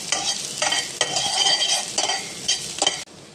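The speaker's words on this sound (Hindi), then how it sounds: "ये भी हम इसके अंदर डाल देंगे और अब इसे अच्छे से हम फ्राई करेंगे" Chopped ginger frying and being stirred in a pan for a diet soup: a steady close sizzle broken by scraping stir strokes about once a second, ending abruptly.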